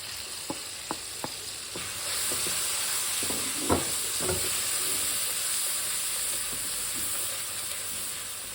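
Salt, crushed chillies, Kashmiri red chilli and turmeric roast in oil for achari daal, a few sharp taps giving way to a steady close sizzle with occasional stirring clicks.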